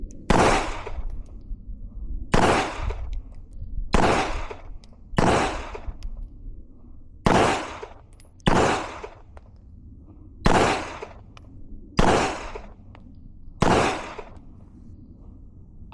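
Eight loud gunshots during shooting training, fired alone at roughly even intervals of one to two seconds. Each crack is sharp and close, with a short decaying tail and no talking between them.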